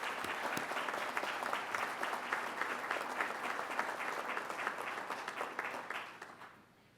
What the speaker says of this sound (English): Please give them a round of applause for coming here tonight.